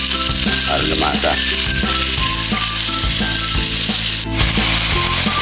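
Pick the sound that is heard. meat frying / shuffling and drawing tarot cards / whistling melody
meat frying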